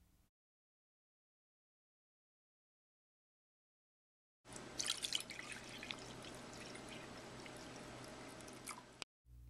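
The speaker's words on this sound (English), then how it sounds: "Now we're going to pour our 1 cup of vinegar into our bottle." Vinegar pours into a bottle after a few seconds of silence, a steady splashing trickle lasting about five seconds, then stopping abruptly.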